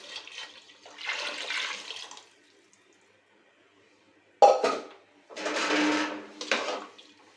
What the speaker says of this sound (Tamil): இப்போ இந்த தண்ணியை வந்து அதில் ஆட் பண்ணிக்கலாம் வாங்க.